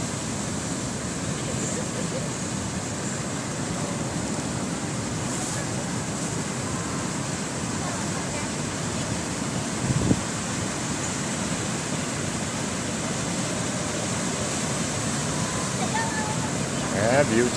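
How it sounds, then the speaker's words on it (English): Big waves roll in and break continuously on Parangtritis Beach near sunset, a broad steady surf roar with only slight swells in loudness throughout. "Yeah, beautiful waves."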